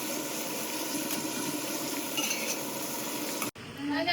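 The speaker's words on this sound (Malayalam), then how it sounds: "ഇളക്കി മിക്സ് ആക്കുക" Chilli chicken with pepper being stirred in a pan in a small kitchen, a steady sizzling wash with faint scraping that cuts off briefly near the end before resuming.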